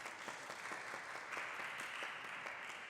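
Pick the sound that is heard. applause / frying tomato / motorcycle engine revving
applause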